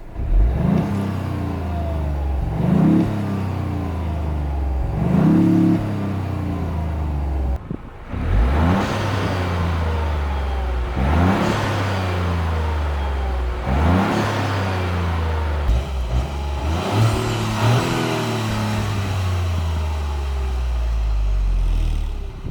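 A Toyota GR Yaris engine revs repeatedly, each blip climbing and falling in pitch in a steady series of loud, close throttle bursts, alone without talk.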